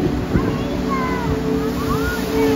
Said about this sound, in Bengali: ঢেউয়ের সাথে আইসা বাড়ি খেয়ে এটা পানি একদম উপরের দিকে উঠে যায়।